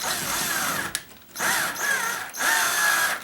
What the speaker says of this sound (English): I'm going to take a longer screw, see if I hit that plywood like I think there is in the wall.